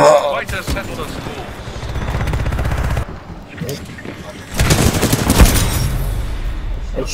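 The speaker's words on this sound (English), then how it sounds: "I shot like multiple times." Rapid bursts of gunfire from a Titanfall 2 multiplayer match crackle loudly in two clusters, with a dense volley near the end, alongside other game noise.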